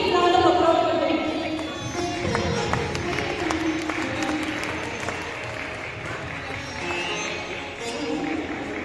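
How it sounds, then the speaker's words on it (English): Audience applause fills a hall at a Durga Puja celebration in Duesseldorf, Germany, a loud, dense burst of clapping that starts strong and tapers slightly, with crowd murmur beneath. "A big round of applause for them."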